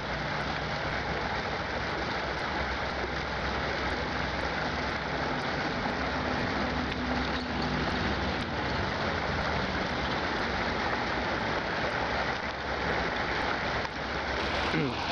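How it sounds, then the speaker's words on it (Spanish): Water runs steadily through an Andean irrigation canal, a continuous broad rushing wash that stays loud and even throughout, with no voices over it. "hay bastante flujo de agua"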